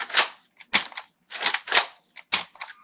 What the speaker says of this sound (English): Hold the trigger, and go like this, instantly fire, rapid fire.